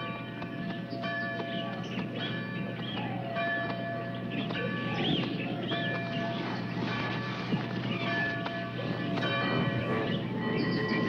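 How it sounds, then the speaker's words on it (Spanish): A bell rings steadily from a stolen horse-drawn carriage, with clip-clop of hooves and a low rumbling roll in the background, continuous and moderately loud for the whole stretch. "Las encontraremos por la campana."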